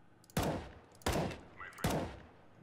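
Three sharp rifle gunshots in CS:GO, each a loud crack with a short decaying tail, spaced about three quarters of a second apart, with no talking.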